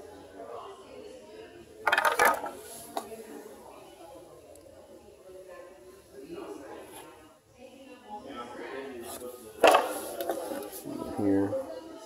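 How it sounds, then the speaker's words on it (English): The plastic timing belt cover on a 2006 Chevrolet Aveo snaps into place during a timing belt and water pump job. Two sharp clicks stand out a few seconds apart, amid quieter handling noise and a person talking. "So we'll be clicking into place basically."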